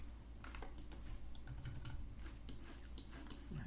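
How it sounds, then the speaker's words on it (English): Repeated presses of the plus key on a computer keyboard, a steady run of quick light clicks over a constant background hum. "I'm just going to press plus on the keyboard a few times."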